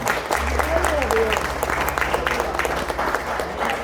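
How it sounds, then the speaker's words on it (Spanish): Church congregation applause rolls steadily through the space, moderately loud, while a voice speaks over it and a low hum sits underneath. "denle el aplauso al Señor"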